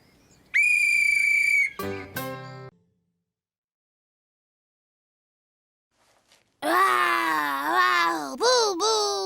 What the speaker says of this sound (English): Next time I'll lend you my whistle.